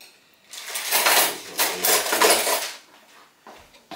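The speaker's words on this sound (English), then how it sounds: "I'm going to give it just a little tiny little mix mix around with a spoon" A spoon scrapes and clinks against a pot while beef stew is stirred, several close, uneven bursts of metallic scraping separated by short pauses, with no talking.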